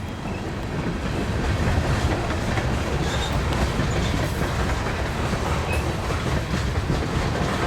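Union Pacific freight train with old leased C&W hopper cars rolling past at a steady, continuous roar, wheels clicking over rail joints throughout, fairly close and loud with no talk.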